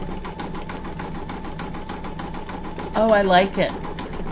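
An embroidery machine stitches gold thread on an in-the-hoop appliqué mug rug, a fast, even mechanical rattle running throughout, with a short spoken remark over it near the end.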